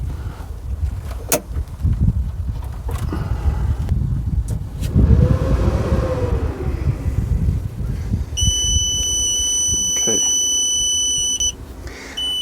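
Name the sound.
Growatt RV inverter beeping while connecting to battery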